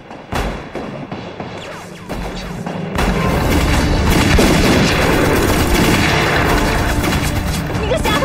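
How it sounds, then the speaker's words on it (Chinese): Gunshots in a war film: scattered sharp cracks at first, then a dense, loud barrage of booming fire and crashing blasts from about the three-second mark onward, with voices faintly mixed in. "谁让你开枪的？"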